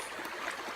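A forest stream flows near its bank deep in the woods, a steady, soft rushing and trickling wash of water with no other sounds.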